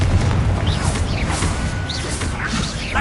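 Confringo fire spell blasting in Hogwarts Legacy: a dense, loud rumbling explosion with whooshing magic effects and bright chirping sparkles layered over a continuous low boom for a few seconds.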